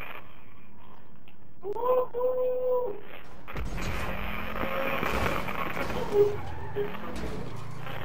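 A car blows up in a video game: a short voiced tone first, then a sudden loud burst that rolls into a long rumbling, crackling blast with scattered pops and warbling engine tones.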